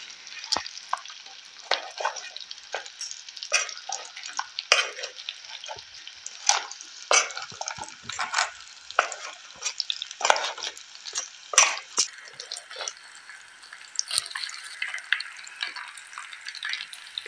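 Shrimp stir-fry in a pan at a campsite, with a steady hiss of frying under frequent scraping and clicking strokes of a spatula that continue irregularly throughout.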